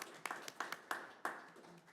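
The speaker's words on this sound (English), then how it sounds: "And you can clap for that." Sparse, quiet clapping from a few people at a school board of education meeting, a handful of distinct claps spread irregularly over about two seconds in a quiet room.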